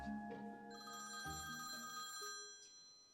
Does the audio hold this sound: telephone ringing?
yes